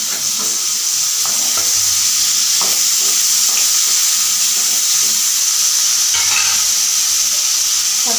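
Tomatoes sizzle loudly and steadily in a hot pan for Tamil-style mint chutney, with scattered clinks and scrapes of a spoon stirring throughout and a busier burst of stirring near the end; no one speaks.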